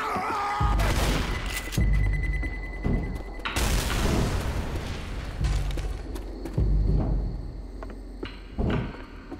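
Heavy booms from a grenade or pipe bomb blast in the zombie shooter game Left 4 Dead, several loud low thumps spaced a second or two apart amid gunfire and game clatter.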